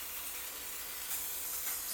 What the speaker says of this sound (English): I'm gonna go ahead and I'm gonna spray them.